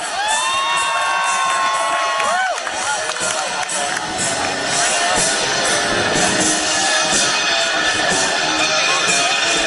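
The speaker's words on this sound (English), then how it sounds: "the jumpers under canopy can definitely hear encouragement from the crowd" A large outdoor air show crowd cheers and shouts for parachute jumpers under canopy, a loud, continuous roar of voices and whoops with children's shouts, plus a few high whistles early on.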